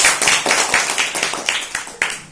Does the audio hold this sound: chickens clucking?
no